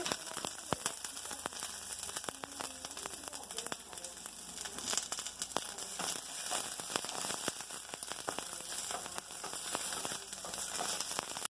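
Chopped onion sizzles in hot olive oil in a pot, a steady dense crackling hiss with scattered pops running continuously and fairly close, with no voices over it.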